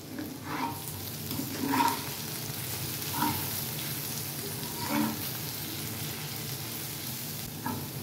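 Spiced kundli bhujiya sizzles in a pan as it is stirred, a continuous close frying hiss broken by about five rhythmic scraping strokes of a spoon, with no talking.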